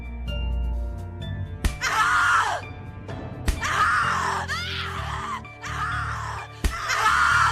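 A woman screams repeatedly in the psychological horror game The Cat Lady, four long, loud, anguished wails separated by sharp impacts, with low droning music underneath.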